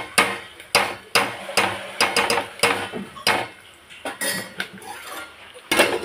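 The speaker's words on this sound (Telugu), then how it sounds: "ప్లేట్ పెడదాం." A metal plate is set over a cooking pan as a lid, giving a run of sharp metallic clanks and knocks in an irregular rhythm, close and fairly loud with no talk.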